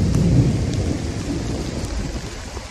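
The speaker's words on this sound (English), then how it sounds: "thunder." Thunder rumbles low and heavy through a steady rainstorm, loudest at the start and slowly fading as rain keeps falling, with no voices.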